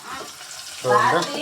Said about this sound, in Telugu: కొత్తిమీర, ఉల్లిపాయ, పచ్చిమిర్చి వేపుతున్నా